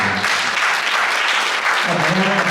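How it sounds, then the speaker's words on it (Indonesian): Congregation at a year-end church worship service bursts into sustained, dense clapping, loud and continuous throughout, with a voice faintly audible beneath near the start and end. "Percaya, berikan tepuk tangan buat Tuhan."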